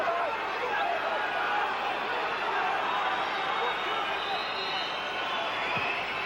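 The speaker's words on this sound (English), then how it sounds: "The crowd are trying to inspire this Manchester United defence now." Dense stadium crowd noise rolls on steadily from a packed football ground during Manchester United against Fenerbahçe in a 1996 Champions League match, a continuous roar of voices and chatter with no break.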